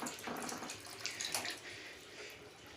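Water from a Grundfos twin impeller regenerative booster pump at 3.0 bar pours steadily into a bucket, a continuous splashing rush with no talk.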